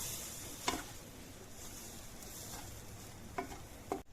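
Roasted semolina and milk are stirred in a pan, a faint, soft sizzle under a few sharp spoon scrapes against the metal, heard close and quiet.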